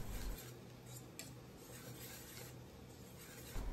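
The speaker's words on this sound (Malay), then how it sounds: "Kacau adunan putih dan cendol ni sehingga sekata." Soft, steady scraping of a utensil stirring thick kuih talam batter with cendol in a pot, quiet and continuous throughout.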